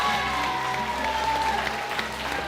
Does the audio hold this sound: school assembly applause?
yes